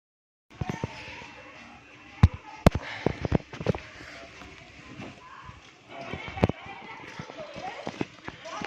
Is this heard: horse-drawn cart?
yes